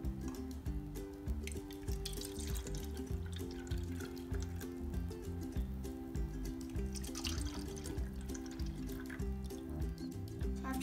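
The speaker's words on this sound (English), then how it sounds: "first you're going to take water and pour it into the cups until it's like halfway full" Water poured into a row of cups until each is about halfway full, a steady trickling and dripping stream running continuously and close by throughout.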